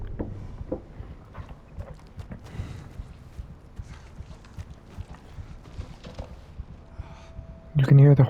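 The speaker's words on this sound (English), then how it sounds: "You can hear the horses galloping around here." Horses gallop unseen in the Silent Hill 2 video game, a soft, irregular clip-clop of hooves drifting at a distance under low ambient murmur, ending in a sudden louder burst.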